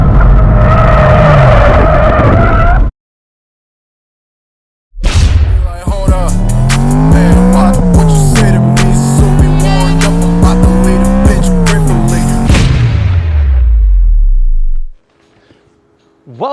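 A BMW M3 on a race track roars loudly up close, engine revving and shifting through rising and falling pitch with tire squeal, broken by a few seconds of silence before the run and a quiet tail at the end.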